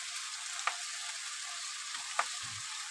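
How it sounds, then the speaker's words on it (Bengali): Jute leaves frying with shrimp in a pan, giving a steady soft sizzle with a couple of brief clicks from stirring, and no voices. "চিংড়ি মাছ দিয়ে পাট শাক ভাজা"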